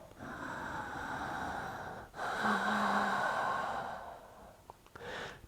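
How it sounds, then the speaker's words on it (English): Slow, deep breaths during a seated yoga twist: a long drawn inhale, a brief pause, then a steady audible exhale, close and breathy, followed by a short sniff. "Deep breaths"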